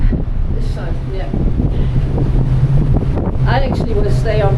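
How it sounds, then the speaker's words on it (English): Strong wind buffets the microphone on a ship's deck off South Georgia on an Antarctic cruise, a steady low roar running throughout with people talking over it. "This is way too cold and windy for me."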